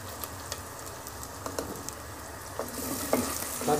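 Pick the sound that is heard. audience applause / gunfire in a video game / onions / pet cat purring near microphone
onions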